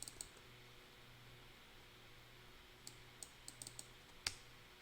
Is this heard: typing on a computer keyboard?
yes